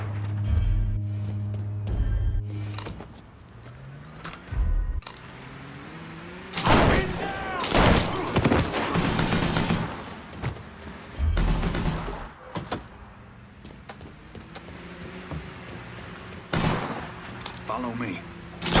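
A shootout in the video game Mafia 3: repeated gunshot bursts and volleys crack through the scene, some in rapid clusters, with shouted voices and dialogue between the firing.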